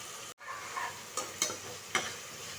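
Onions and ginger garlic paste fry in a pan for mushroom biryani, a quiet steady sizzle broken by a few scraping stirs, close and without talk.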